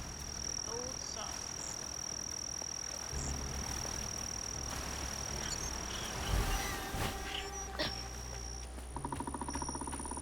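A small frog croaks in the South of Midnight game, near a sawmill and juke joint, among a dense chorus of crickets and insects, with a low rumble, tonal game music and faint voices underneath.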